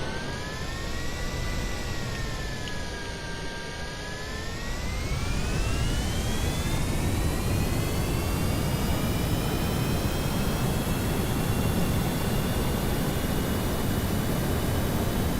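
Jet engines roar in Kerbal Space Program as a loud, steady broadband rush with a whining tone that sweeps up and then holds, swelling louder partway through and continuing unbroken.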